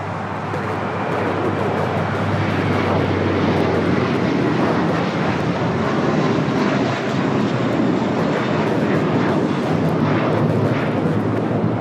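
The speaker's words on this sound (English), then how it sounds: "This is American Airlines 1024 taking off to Orlando on the A321." An American Airlines Airbus A321 taking off from LAX bound for Orlando: a loud, sustained jet engine roar with a low steady hum underneath, constant and close, with no talking.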